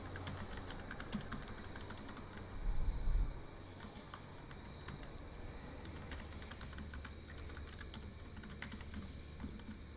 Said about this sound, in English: Ignore my horrible typing skills.